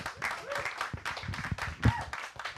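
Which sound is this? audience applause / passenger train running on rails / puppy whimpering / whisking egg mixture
audience applause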